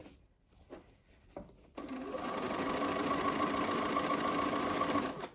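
A sewing machine stitches quilt fabric pieces for a double wedding ring quilt. A few soft handling taps come first, then a steady, close, continuous mechanical whir runs to the end.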